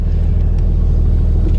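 A Toyota Land Cruiser HDJ81V with its 1HD-T 4.2-litre turbo diesel engine runs steadily, a loud, close, even low rumble with a regular throbbing pulse and no talking.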